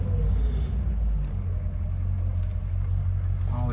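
1965 Corvette coupe cruising down the road, a deep, steady engine rumble with road noise heard from inside the car, constant throughout the short stretch.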